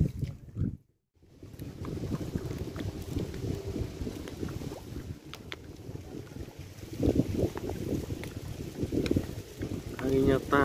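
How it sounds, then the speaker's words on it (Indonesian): Strong wind blowing over open water during a fishing trip, a steady rushing roar with buffeting on the microphone that swells louder toward the end. "Anginnya tambah banter"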